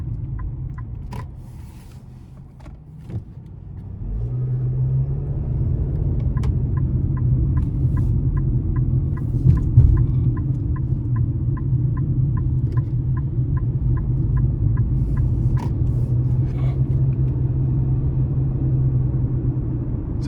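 Low, steady engine drone and road rumble from a 2025 Nissan Kicks S AWD on a test drive, swelling after a brief dip, with a regular faint ticking like a turn signal over it.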